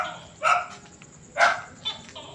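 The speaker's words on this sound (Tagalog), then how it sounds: "pasensya na kayo sa audio. Kasi may aso rito mga boss." A dog barks near an apartment building: two sharp, fairly close barks about a second apart, with quieter background noise between them.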